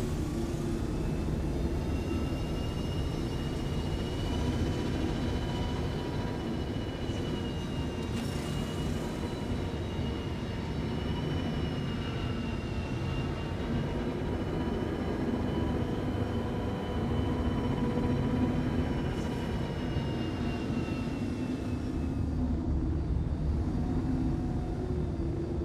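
A jet aircraft engine roars steadily in a flight video game, a constant broadband rumble with faint high whining tones that holds at an even, loud level for the full stretch, with no voices.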